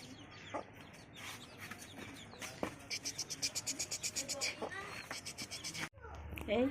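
Chickens cluck nearby in a rural yard, a rapid run of rhythmic clucks building in the middle, with a person speaking over parts of it.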